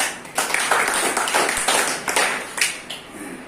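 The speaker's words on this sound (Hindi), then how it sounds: "गिरीश जी के लिए ताली बजा दो।" An audience at a network marketing seminar claps together in a sustained round of applause, dense overlapping hand claps filling the room at moderate loudness with no speech over it.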